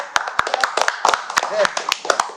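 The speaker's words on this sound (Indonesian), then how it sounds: "Boleh tepuk tangan buat Prima Channel." Scattered hand claps on a talk show, a dozen or so sharp irregular smacks close by, mixed with a voice talking over them.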